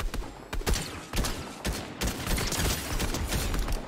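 Fast, continuous automatic gunfire in Fortnite, loud overlapping bursts of shots with brief gaps, close and dominant throughout.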